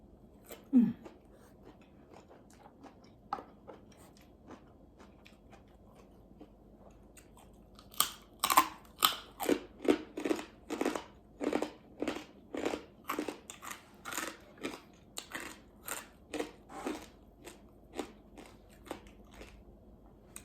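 Crisp, loud crunches of homemade pork cracklings being tossed and mixed, first sparse, then a dense run of rapid, irregular crackling bursts close to the ear, with a faint voice early on.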